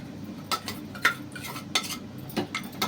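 A spoon stirs sweet rice pongal with jaggery in a pot, giving repeated close scraping and clinking strokes in an uneven rhythm.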